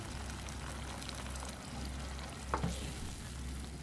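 A spoon stirs a spiced dish of fresh strained yogurt (daldah) cooking in a pot over the stove. Steady sizzling bubbling underneath, with one brief scrape of the spoon near the middle, close by and with no voices.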